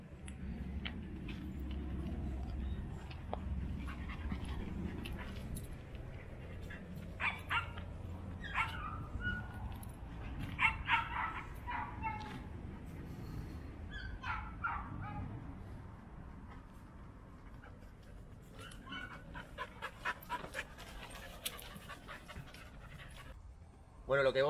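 Pack of dogs, including newly introduced members, playing together: panting, soft whimpers, yips and scattered barks near and far, with scuffling and rustling over a low outdoor rumble.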